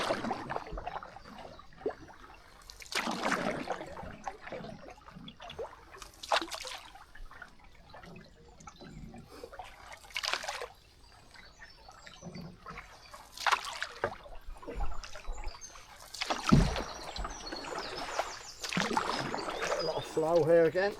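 Canoe paddle strokes dip and pull through the water of the River Stour in a steady rhythm of separate splashes and trickles, close and fairly quiet, with a voice speaking between some of the strokes.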